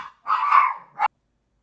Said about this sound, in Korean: 갑자기 고양이가 아니고 개소리가 나죠.